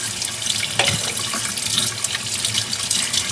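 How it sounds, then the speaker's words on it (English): Tap water runs steadily into a sink during a brush-cleaning routine, a constant bright hiss of flowing water with a few faint clinks, close by and without talk. "Get our water going."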